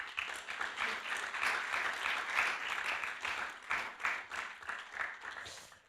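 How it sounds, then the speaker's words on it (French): Steady, dense applause from an audience at a CNRS medal ceremony, heard at a moderate distance with a fairly even level throughout. "Bravo Sonia, on peut l'applaudir."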